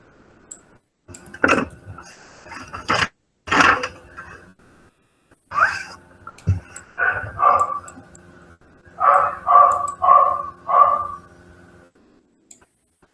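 A dog barks in scattered bursts, some single loud barks and others in quick runs of three or four, with yips and a whimper mixed in, close and clear against a quiet room.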